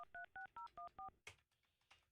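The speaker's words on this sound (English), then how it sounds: "Let me call her cell." Six evenly spaced touch-tone beeps from a phone keypad dialing a cell number, crisp and close, followed by a short click and faint handling noise, with no talking.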